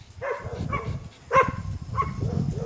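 A dog barks in several short, close yips and woofs, spaced unevenly across a few seconds, with a soft whimpering quality between bursts.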